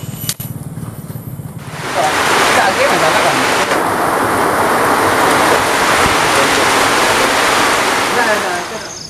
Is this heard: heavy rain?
yes